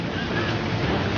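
Ganges floodwater pouring across a road, a dense, steady rushing wash with broadband roar and low rumble, close and continuous without pauses.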